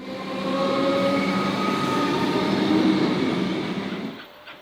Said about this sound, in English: a couple of metro trains were in and out of the station until the shuttle arrived